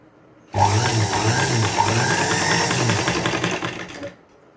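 A sewing machine runs steadily for about three and a half seconds, stitching a double-folded saree edge with a close, even mechanical whir and rhythmic needle clatter, alone without speech.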